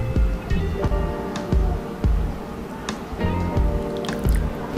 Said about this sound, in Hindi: 1 कप इमली की चटनी इसमें मैं ऐड करूँगा।